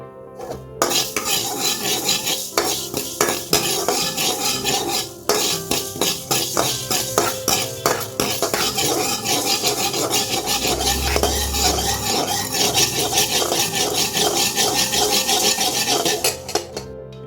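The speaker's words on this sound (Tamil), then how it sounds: "நம்ம வெந்தயத்தை வந்து லைட்டாக வறுத்துக்கலாம்" Fenugreek seeds dry-roast in a pan for sundakkai puli kuzhambu, stirred steadily so the seeds rasp and rattle against the metal in a continuous, close, busy scraping that keeps up with hardly a break.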